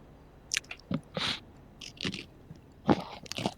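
Someone chewing crunchy food close to a microphone during a GTA Online gaming session, with a series of sharp, irregular crunches and bites spaced by brief pauses.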